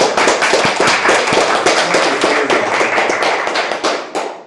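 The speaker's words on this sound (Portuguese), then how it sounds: "uma salva de palmas para o nosso amigo" A live seminar audience bursts into loud, dense applause, crowded hand claps carrying steadily throughout and tapering off at the end.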